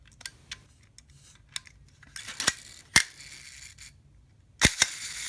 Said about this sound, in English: there the shutter gets stuck.